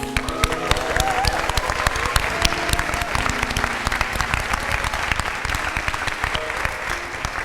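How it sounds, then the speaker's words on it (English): An audience at a Poor People's Campaign evening event in San Francisco breaks into dense, sustained applause for the ASL interpreters, steady and loud from start to finish. "we just want to give a huge round of applause to the interpreters"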